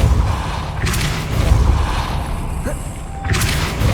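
The Depulso force-push spell cast in Hogwarts Legacy: two sudden booming bursts, one near the start and one near the end, each over a steady rumbling game backdrop.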